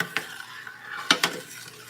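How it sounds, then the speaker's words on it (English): Sugar is stirred into coconut cream pie filling, with a few close clinks and scrapes of a utensil against the bowl and quiet gaps between the strokes. "Stir that in and see what that tastes like."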